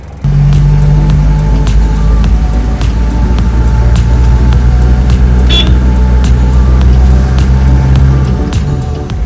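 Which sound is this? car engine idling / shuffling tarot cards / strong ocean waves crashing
car engine idling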